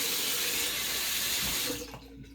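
Warm water runs steadily from a tap in a close, loud continuous splash, then cuts off abruptly near the end, leaving faint drips.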